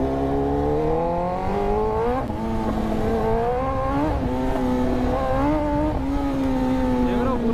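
A Kawasaki Z900 superbike ridden on city streets accelerates hard, its engine note rising in pitch through repeated climbs with brief drops at gear changes, loud and close.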